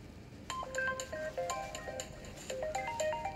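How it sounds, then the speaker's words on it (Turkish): A telephone ringtone plays a quick, repeating electronic melody of bright tones in an indoor scene from a Turkish TV drama, fairly clear against quiet background noise with no talking. "aç şu telefonu"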